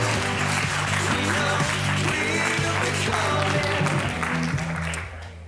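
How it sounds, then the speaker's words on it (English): A conference audience applauding a speaker about to present at an Android developer event, a dense wash of clapping that holds steady for several seconds before tapering off at the end. "give him a round of applause"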